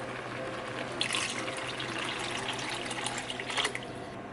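Vegetable broth poured into a cooking pot, giving a steady close liquid rush and splash that swells for a moment partway through, with no talking.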